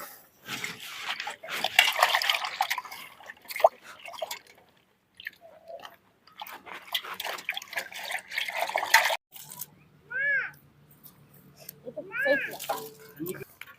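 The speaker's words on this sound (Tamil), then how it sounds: "கத்திரிக்காயை அலாசி எடுத்துக்கலாம்" Brinjals are swished and rinsed in water, giving wet sloshing and dripping sounds in short bursts, heard close up, with a voice talking in between and a voice near the end.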